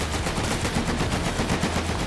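Dense, rapid gunfire crackles continuously in a video game roleplay set in a war scenario, loud and close with overlapping bursts and no talk.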